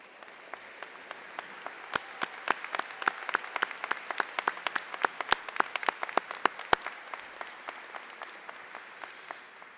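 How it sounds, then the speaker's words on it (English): Applause fills a high school graduation ceremony as staff are recognized, a steady wash of many hands clapping in a large hall, with sharper nearby claps standing out throughout. "Please stand to be recognized for a round of applause."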